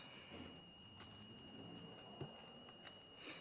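Scissors trim craft material, making a few quiet, crisp snips against a steady high-pitched electronic hum, with no talk.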